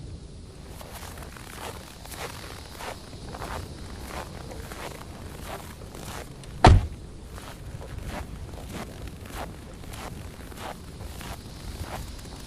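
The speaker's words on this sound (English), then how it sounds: "Look for snow footsteps." Footsteps crunch through snow at a steady walking pace, soft regular treads under light wind noise, with one sharp loud knock partway through.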